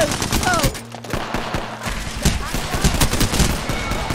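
Gunfire in the Apex Legends video game: rapid bursts of shots crackle loudly throughout, with game effects and a brief lull near the start.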